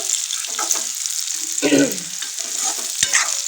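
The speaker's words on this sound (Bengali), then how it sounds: "এই যে পনিরটা ভাজা হয়ে গেল" Paneer frying in a pan for a cauliflower paneer masala, with a steady close sizzle and louder bursts of spatula stirring and scraping.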